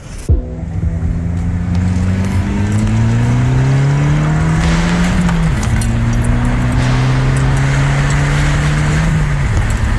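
A car engine revs hard and close, its pitch climbing in long sweeps through several gear shifts, loud and continuous with no talk over it.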